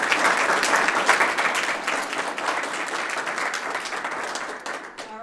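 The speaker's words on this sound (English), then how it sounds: "we're going to do another round of applause" A school awards audience honoring outstanding students breaks into steady, dense applause that holds for several seconds and then tapers off near the end.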